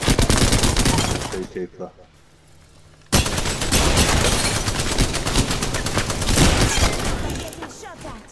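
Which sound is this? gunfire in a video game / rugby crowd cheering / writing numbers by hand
gunfire in a video game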